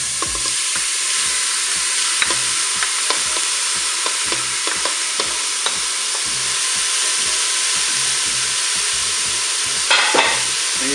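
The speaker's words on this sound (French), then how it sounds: "Le préchauffage voilà, est terminé. Et bien, je vais pouvoir ajouter ma viande hachée." Minced meat sizzles and fries steadily in a preheated Cookeo multicooker while being browned for hachis parmentier, with repeated scraping and stirring clicks over a constant loud hiss and a brief burst of steam near the end.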